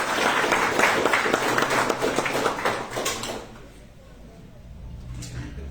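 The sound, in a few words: audience applause for Alex Córdoba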